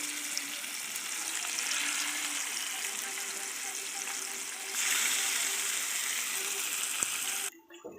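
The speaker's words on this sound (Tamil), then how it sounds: "இப்போதான் மீன் வறுத்துட்ருக்கேன்" Fish, a carp, fries in a pan in a home kitchen, giving a steady hissing sizzle that grows louder partway through and cuts off sharply near the end, with faint background tones.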